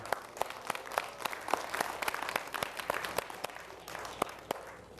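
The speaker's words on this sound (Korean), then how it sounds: "박수 치시죠." An audience at a Saturday Buddhist temple dharma gathering applauds, with a steady wash of moderate clapping and sharp individual claps standing out throughout.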